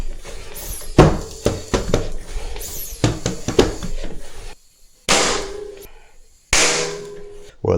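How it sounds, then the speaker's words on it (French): A tubeless bicycle tyre pumped to about 2 bar with a high-volume pump, its bead popping into the rim in several sharp, close snaps and bangs, with short pauses between bursts. "Et après je prends une pompe à haut volume pour reclaquer le pneu"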